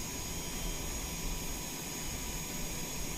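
Citation X business jet in Microsoft Flight Simulator, a steady broadband engine roar with a constant high whine, loud and unbroken throughout with no voices.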